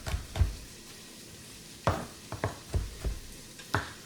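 Vegan sausage and beans being stirred in a pan: scattered scraping and clicking strokes of a utensil, irregular and fairly quiet, with a faint sizzle underneath and no talking.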